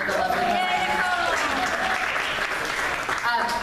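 A crowd at a congressional district debate applauds steadily, with voices audible over the clapping the whole time.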